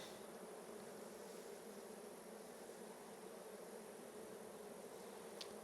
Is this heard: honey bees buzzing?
yes